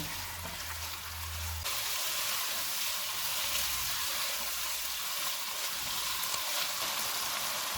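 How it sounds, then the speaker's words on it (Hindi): Mutton frying in a pan over medium-high heat after ginger-garlic paste goes in, a steady close sizzle running without pause, bubbly and hissing with a low rumble under it. "750 ग्राम मटन डालेंगे। चूल्हे को मीडियम टू हाई रखेंगे, इसको 4 से 5 मिनट तक भूनेंगे।"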